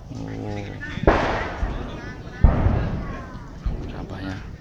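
Two loud, booming firecracker blasts go off a little over a second apart during Eid al-Fitr celebrations in Kebumen, Indonesia, with people talking before and between them.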